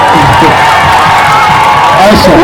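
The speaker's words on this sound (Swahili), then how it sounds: "Tuwachapie makofi mwalimu, tumchapie makofi jamani." A religious lecture audience claps and cheers for the teacher, a loud dense wash of crowd noise with shouts and whoops filling the whole stretch.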